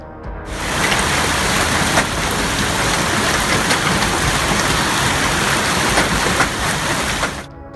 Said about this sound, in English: There was also a thunderstorm with hail.